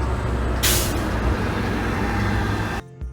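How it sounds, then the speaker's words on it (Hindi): A bus lets out a loud burst of air brake hiss over a rumbling engine idle, the hiss settling into a steady mechanical drone before cutting off sharply at the end. "बच्चों देखो, ये है बस।"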